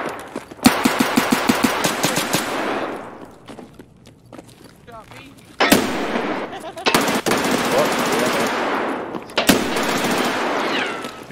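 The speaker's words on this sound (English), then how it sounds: "I shot Ken a couple times" Suppressed AUG A3 rifle fire in Escape from Tarkov comes in several quick bursts of muffled shots, with gaps between them, while players talk over the gunfire.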